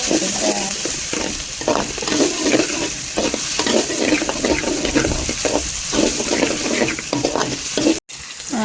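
Mee goreng basah frying in a hot pan while being stirred with two spoons, a continuous loud sizzle broken by rhythmic scraping and clattering strokes, with a brief cut near the end.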